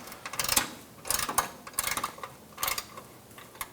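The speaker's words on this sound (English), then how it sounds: "I'm going to use a 13mm socket, loosen up the nut right here." A 13mm socket ratchet loosens a nut on the air ride suspension compressor of a 2015-2020 Cadillac Escalade, making four short bursts of close, rapid clicking separated by brief pauses.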